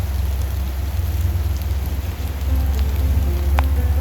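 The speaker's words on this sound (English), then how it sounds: "The pattering of the rain" Steady rain patters on a surface outdoors, a dense continuous hiss with scattered close drops, loud and alone with no voices.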